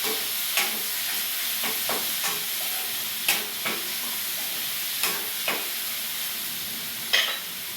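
Tomatoes sauté in a pan with a constant bright sizzle, broken by periodic stirring scrapes and clatters every second or so. The sound stays close and steady and no one speaks.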